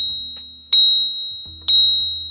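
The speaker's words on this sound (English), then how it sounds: "The bell is there, of course, but next to it, all you have is a rubber piece that you pull back and let go." A bell on a Hiboy S2 Max electric scooter struck twice by a pulled-back rubber striker, each a bright loud ding that rings on and fades slowly, close and alone.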